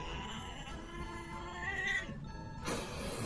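A pet cat gives a drawn-out, complaining meow close by and fairly loud, ending in a sudden burst of broadband noise, with no talk over it.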